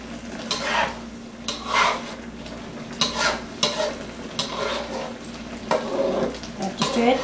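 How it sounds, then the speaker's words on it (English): A spoon stirs red snapper sarciado in a pan over steady frying sizzle. Repeated scraping strokes sound close and fairly loud, with light clinks of the utensil against the pan. "Have to stir it to balance the heat."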